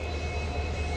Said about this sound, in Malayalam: ഇതാണ് നമ്മളിന്ന് നിലമ്പൂർ വരെ കൊണ്ടുപോകുന്ന WDP 4D 40093.